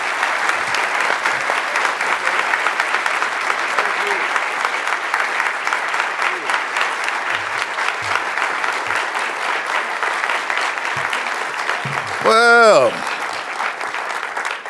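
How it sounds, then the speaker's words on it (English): An audience welcoming a senator applauds steadily and loudly for a long stretch, a thick bed of many hands clapping, with a brief spoken word near the end. "y'all stop clapping"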